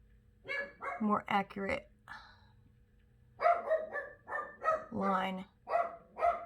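Dogs bark in sharp bursts close by, several rapid barks in two clusters, while a person speaks in between and over them.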